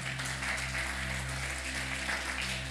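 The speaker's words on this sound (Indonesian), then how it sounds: "Tepuk tangan." A church congregation applauds during a sermon: a soft, steady patter of clapping holds evenly through the clip over a low, constant hum.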